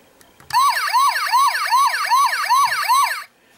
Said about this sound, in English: And he does have sound and light effects, which I will show off in this mode right now.